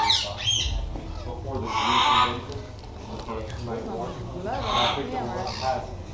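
Parrots at a bird attraction in Pigeon Forge, Tennessee, give loud, harsh squawks in bursts over a steady crowd murmur, with people talking nearby.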